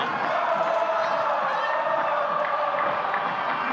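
A stadium crowd roars and cheers steadily for the Nexen Heroes during the 2014 Korean baseball playoff opener against the LG Twins, a dense, loud wall of massed voices with no single voice standing out.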